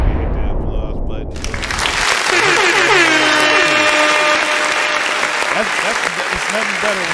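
An applause sound effect plays on air during a live talk show broadcast: loud, dense crowd clapping and cheering swells in after a brief quiet moment and carries on steadily, with a voice mixed in.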